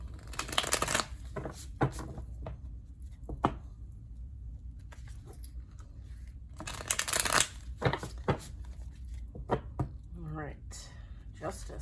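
A tarot deck is riffle-shuffled several times, crisp fluttering bursts separated by quiet handling and clicks, close up.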